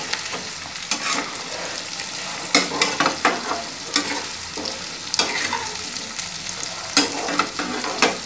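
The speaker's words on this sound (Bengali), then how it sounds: "কপি এবং আলুটাও একসাথে আমরা দিয়ে দেব, কারণ কপি একটু আলু ফ্রাই হতে একটু টাইম লাগে।" Cauliflower and potato pieces frying together in hot oil for a vegetable biryani, with a steady sizzle broken by repeated scraping stirs of a spatula against the pan.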